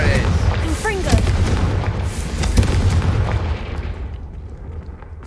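In Hogwarts Legacy, a Confringo fire spell goes off in a burst of rumbling explosions with crackling debris, loud and close, then fades out; a voice is faintly heard.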